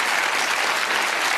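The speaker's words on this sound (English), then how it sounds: "Give them a round of applause." A studio audience at the UK darts game show Bullseye applauds steadily and loudly, with dense, even clapping filling the whole short stretch.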